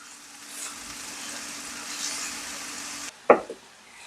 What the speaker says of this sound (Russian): пока жарится, не тушится, а вот жарится именно лук и грибы